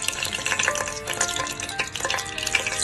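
Ingredients hit hot coconut oil in a frying pan, with a busy crackling sizzle and wet spattering bursts, close and fairly loud, rising and falling unevenly.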